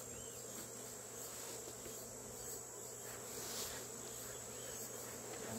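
Honeybees drone in a soft, continuous buzz around an opened hive during a honey harvest at an apiary, faint and steady with no one speaking.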